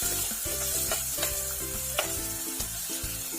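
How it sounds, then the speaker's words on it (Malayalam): Small chopped onions sauté in a pan with a loud, continuous sizzle, while a spoon stirs them in quick, regular scraping strokes close by. "ഉള്ളി ഇട്ട് നന്നായിട്ട് വഴറ്റണം"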